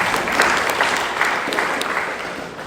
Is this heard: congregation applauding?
yes